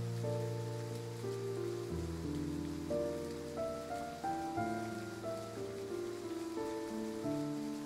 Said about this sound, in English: It's not going to stop raining tonight.